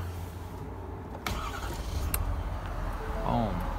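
A 2017 Ford F-350 Platinum dually pickup starts up, with a brief crank and catch followed by a steady idle rumble, close by, and a voice speaking over it.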